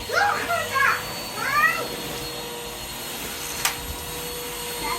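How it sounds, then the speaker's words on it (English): A Henry XL Plus hoover vacuum cleaner runs with a steady drone while someone talks over it in high, animated bursts, all at a moderate level indoors. "Batman, do you want to use Henry XL Plus?"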